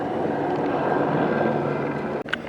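A Los Angeles Police Department helicopter passes overhead with a steady, broad rumbling drone throughout, fairly loud and close.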